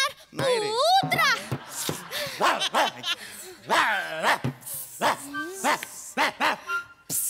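An actor on a Marathi comedy sketch stage imitates a dog with a run of voiced barks and yips, close and loud, mixed in with quick spoken lines from other performers and children.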